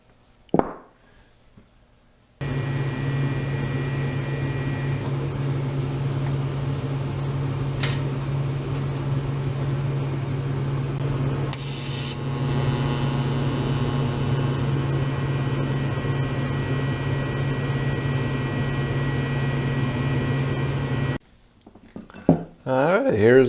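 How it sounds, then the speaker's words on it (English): Welding on a golf cart alternator mount makes a steady, loud electric hum and crackle lasting about twenty seconds, with brief quieter sounds before and after it. "Let's go to the welding table and weld it all together."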